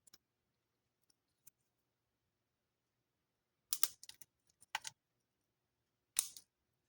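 Clippers bite into a circuit board in a few sharp, crackling snips, close and clear, separated by near silence and a couple of faint ticks at the start.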